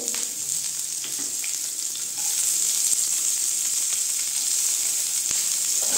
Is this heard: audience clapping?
no